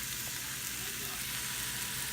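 Ingredients sizzle and fry steadily in a pan for creamy mushroom soup, a close, continuous crackle with no voices.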